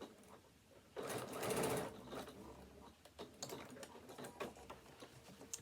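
A sewing machine stitches fabric in a short, close burst of fast whirring, then stops, leaving faint ticks and light handling noises.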